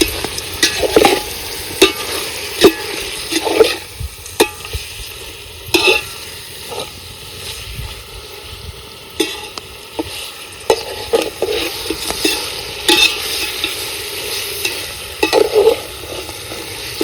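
Chicken tossed with turmeric and salt in a pan, scraped and stirred in irregular bursts of spoon clatter over a steady frying sizzle, close and fairly loud with no talking.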